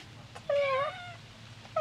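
A wet cat gives one clear, drawn-out meow close by, with a short, faint call just starting at the end against a quiet background.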